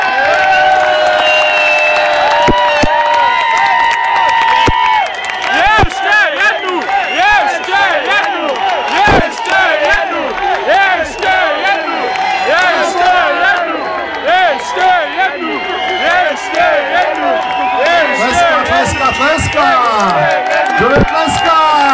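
A festival crowd at the Štěrkovna Open Music 2011 open-air event roars with sustained applause, whoops and cheers for an encore, loud and dense throughout with voices shouting within the mass of noise.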